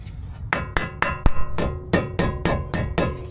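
A hubcap on a 3rd-gen Mitsubishi Montero is knocked back into place with about nine sharp metallic taps in an irregular rhythm, close and clear, with no talking.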